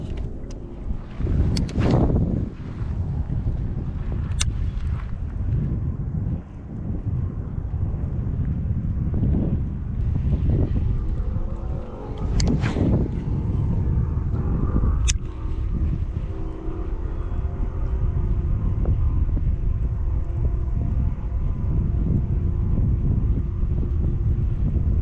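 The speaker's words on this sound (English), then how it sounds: "It's still pretty windy" Strong wind buffets the microphone outdoors on the water during bass fishing, a steady low rumble with repeated louder gusts throughout, no talking.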